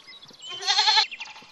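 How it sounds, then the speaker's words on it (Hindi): A goat bleats once, a clear wavering cry that sits between fainter background sounds, fairly close and moderately loud with no voices over it. "हाँ ये बकरी है"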